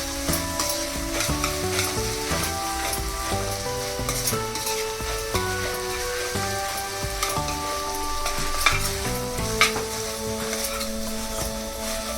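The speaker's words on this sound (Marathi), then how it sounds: "आपण याच्यामध्ये आलं लसूण पेस्ट टाकली आहे ती पण मिक्स करून घेऊया" Ginger-garlic paste is stir-fried with softened tomato for pav bhaji in a pan: a steady sizzle with ongoing scraping and stirring, fairly close, with faint tonal sounds running underneath and no talking.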